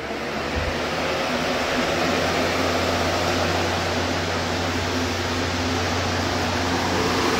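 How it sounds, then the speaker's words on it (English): A ventilation fan runs on speed 3 in a DIY foam board spray booth, making a steady, loud whoosh of rushing air over a low hum with no talking. "let me turn on that fan."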